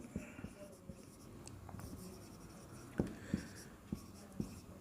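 Pen or chalk strokes while writing out a repeated limit of a two-variable function, heard as soft intermittent taps and scratches over a quiet room hum with no talking.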